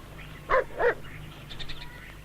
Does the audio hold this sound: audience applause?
no